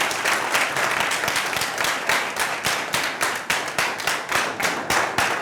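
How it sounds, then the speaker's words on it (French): An audience applauds warmly to welcome a guest, Dr. Shirish Balachandra, onto a talk show stage: steady, dense clapping from many hands, loud and close, with individual claps standing out rhythmically throughout. "Je vous demande de l'applaudir très, très, très fort."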